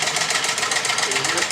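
Small lab engine with a glass cylinder firing as it starts, a loud, fast, steady mechanical clatter heard up close.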